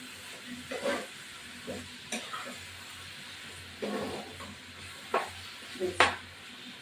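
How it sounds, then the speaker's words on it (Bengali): Mutton liver curry being stirred in a pan, soft scraping strokes every second or so over a quiet sizzle, with a few louder clanks of the spoon against the pan. "এবার নাড়া দিচ্ছি"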